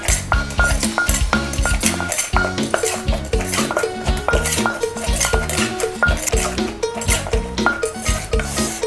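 Spicy squid salad being pounded in a mortar with a pestle, giving loud, steady, rhythmic thuds mixed with the clink and scrape of utensils, close up and continuous.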